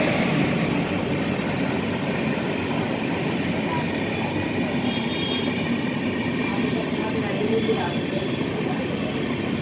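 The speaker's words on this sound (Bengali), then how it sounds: "একটা ট্রেন চলে যাচ্ছে, ট্রেনটা কোথাকার ট্রেন?" Howrah Radhikapur Express train passing nearby, a continuous heavy rumbling roar with wheel noise holding steady and fairly loud, with people talking over it.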